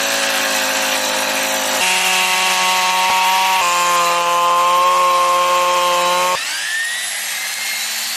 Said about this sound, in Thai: เครื่องตัดหญ้าตัวนี้ไม่ใช้น้ำมัน